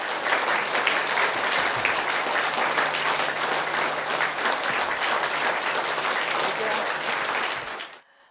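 Sustained applause from an audience at a quiz gathering in a Buddha Vihar, a dense, loud wash of clapping that holds steady for about eight seconds before cutting off abruptly.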